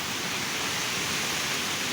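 A rain-swollen stream rushes in full flow after a heavy downpour, a steady broadband roar of water close by that holds even throughout, with no voices.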